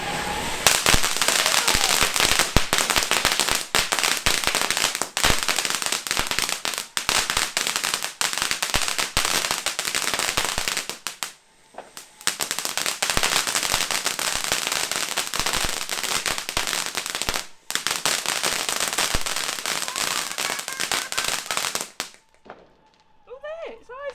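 A backyard Bonfire Night firework called an LOL, made to form a face, fires off in long runs of dense rapid crackling and popping bursts with brief pauses between, close and loud, with voices briefly audible at the end.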